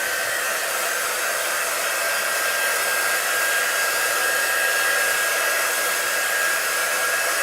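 Hair dryer blowing on freshly applied chalk paint: a loud, steady, close whooshing roar with a faint motor whine, constant for several seconds with no voices.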